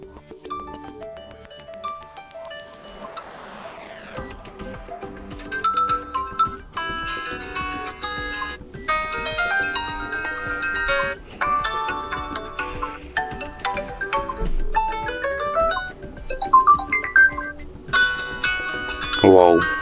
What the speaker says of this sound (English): Wow, so beautiful ringtones.